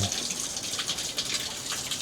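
Water runs steadily from an outdoor stone fountain in a mountain village square, a continuous close splashing gush with no pauses.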